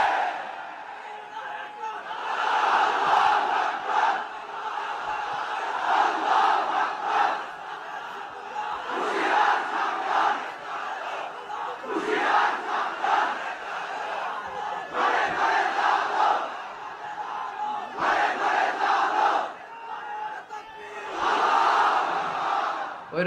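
A large crowd at a religious gathering roars back in unison, several loud swelling shouts that rise and fall in waves across the stretch with brief pauses between them.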